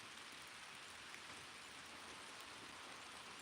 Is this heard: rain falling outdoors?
yes